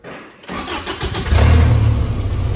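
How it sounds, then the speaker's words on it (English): A Holden Jackaroo engine cranks briefly, catches and settles into a loud, rumbling idle close by, with no talk. "Got the engine all running, it was all sweet, running nice."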